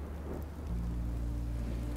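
Rain falling in Minecraft: Story Mode, a steady, even wash of rainfall over a low rumbling hum, with no one speaking.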